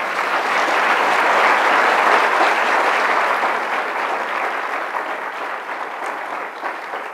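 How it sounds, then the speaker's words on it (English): Sustained applause from a conference audience after an industry panel discussion, dense and steady throughout, swelling early and then slowly tapering without fading out. "I'd like a big round of applause for them."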